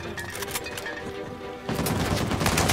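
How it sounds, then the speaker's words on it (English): Gunfire from the video game Uncharted 4, with scattered shots followed by a dense burst of rapid automatic fire, loud and close, with no talk. "who's shooting at me?"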